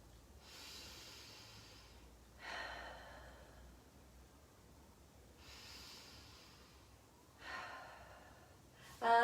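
Pilates breathing exercise: a few slow, deep breaths alternating between audible inhales and hissing exhales, near and soft, with quiet gaps between them.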